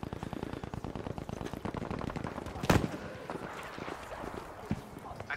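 STG assault rifle fire in Battlefield V during a Conquest match on Al Marj Encampment, rapid bursts of automatic gunfire in quick rhythm, with one sharp, louder crack midway and a softer shot near the end.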